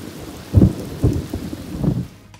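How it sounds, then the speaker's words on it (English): Thunder rumbles in deep rolling bursts during a tropical lightning storm in Panama's San Blas Islands, heard from a boat over a steady wash of rain. "the rain starts with a very impressive lightning show"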